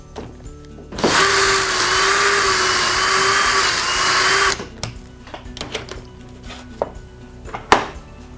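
A power drill whines loudly for about three seconds boring pocket holes with a Triton T6 pocket-hole jig, then stops, followed by scattered clicks and knocks of workshop handling.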